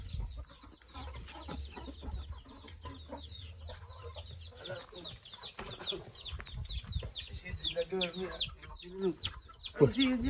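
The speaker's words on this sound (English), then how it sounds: "Can you put the chicks back in here?" Chicks cheep and hens cluck near a house under construction in the Philippines, making a busy stream of high peeps and clucks throughout, with people talking and a low rumble underneath.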